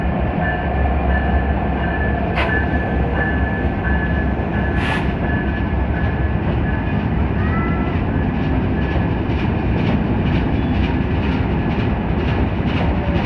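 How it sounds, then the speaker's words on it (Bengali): The Benapole Express passenger train rumbles steadily close by entering Dhaka through Gandaria station, a continuous heavy roll with rhythmic clicking of wheels over rail joints and occasional squeals. "বেনাপুল এক্সপ্রেস ট্রেন ঢাকায় ঢুকতেছে"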